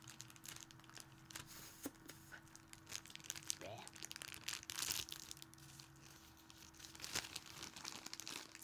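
Plastic bag crinkling and crackling in bursts during a LootCrate subscription box unboxing, close and fairly quiet, with a brief spoken word.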